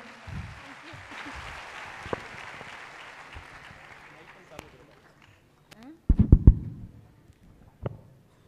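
An event audience in Ahmedabad bursts into scattered applause that fades, with sharp claps near the microphone, a nearby voice, a short quiet gap and then another loud burst of clapping.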